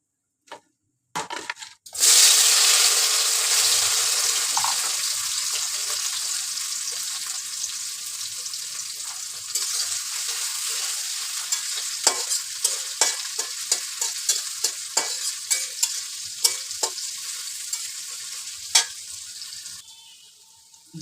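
Cumin seeds, onion, green chili and a bay leaf hit hot oil with a sudden loud hiss that settles into steady sizzling. Close crackles and spatters and a few stirring knocks continue for about twenty seconds.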